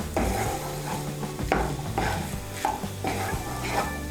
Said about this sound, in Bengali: ডিম ভুর্জিগুলো এখন আমি মশলার সঙ্গে ভালো করে মিশিয়ে নিয়ে আর একটু কষিয়ে নেব